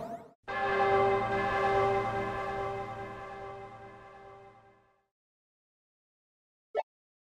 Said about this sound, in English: Now please, enjoy the sweet sound of the bell's last ring.